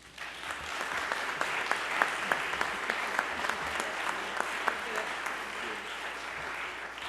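A Presbyterian church congregation applauds during a Sunday service, with many hands clapping in a dense, steady wash that fills the room for several seconds.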